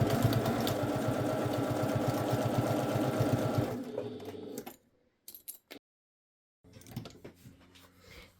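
Sewing machine stitching a fabric pouch in a rapid, steady mechanical rattle for several seconds, then stopping, followed by a few faint clicks and handling sounds before quiet fabric rustling resumes.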